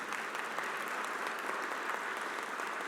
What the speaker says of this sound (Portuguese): Uma salva de palmas para minha esposa.